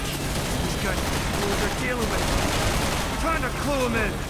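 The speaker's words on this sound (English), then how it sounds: "You can just shoot them with a gun." Rapid gunfire from a weapon in the Resident Evil 6 video game rattles in dense, continuous bursts under a loud game soundscape, with a voice speaking over it.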